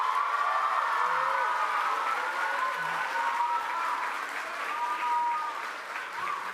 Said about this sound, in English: we want you to really give them a loud applause